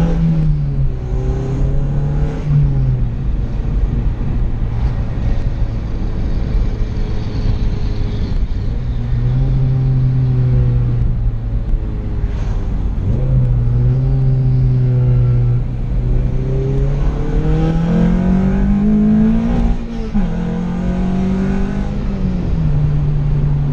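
Engine of a 2012-2015 Honda Civic fitted with an Acuity short shifter, loud from inside the car, revving up and dropping at several gear shifts in a rising-and-falling drone with a rumbling low end.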